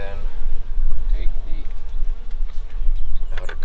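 Bees buzzing around an opened beehive during a warm-weather hive inspection, a steady low drone close by with faint intermittent noises from handling.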